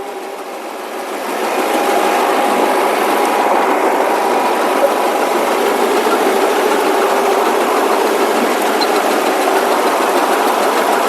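A tractor-driven straw chopper runs continuously at close range, a constant mechanical hum and rattle that swells in the first two seconds then holds level.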